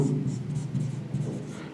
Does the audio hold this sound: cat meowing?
no